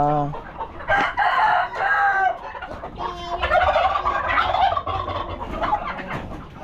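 A large flock of backyard chickens clucks, squawks and crows nearby in overlapping, busy calls that fill the whole stretch.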